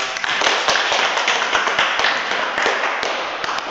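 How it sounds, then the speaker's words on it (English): Audience applause after a school debate on strengthening English education, brisk clapping at close range with a few sharper individual claps standing out, steady and even across the short stretch. "Give yourself one more round of applause."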